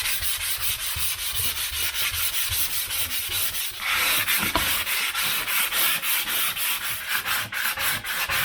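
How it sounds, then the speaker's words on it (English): Dried drywall filler is sanded by hand in close, steady back-and-forth rubbing strokes, a loud rhythmic scratch repeating roughly twice a second with no voices. "I'm just gonna sand it down a little bit."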